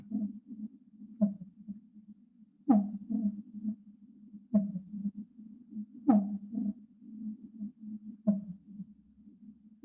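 A recorded fin whale song repeats strong low pulses at roughly regular intervals, each chirp followed by a fainter echo, set against a quiet background.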